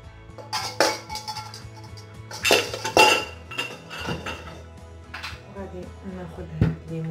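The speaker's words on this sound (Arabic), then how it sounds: "غادي نعاود نردو من هنا الكاسرونه" A saucepan is handled while making crème caramel: metallic clanks, clinks and scrapes of a pan and utensils come in irregular bursts close by, under intermittent talking.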